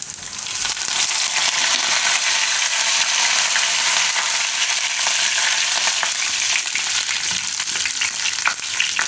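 Curry leaves, cumin and garlic sizzle in hot oil, a loud, sustained crackling spatter with many tiny pops that holds steady throughout, no speech over it.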